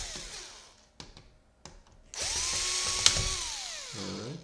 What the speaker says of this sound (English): so here what we wanna do is we wanna unscrew this